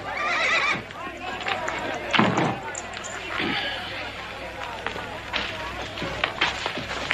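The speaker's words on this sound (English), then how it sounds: "What you got here? A horse. A racehorse." A racehorse whinnies amid a busy outdoor crowd at a race gathering, with hooves clip-clopping and a dense babble of voices throughout, one loud burst near the middle.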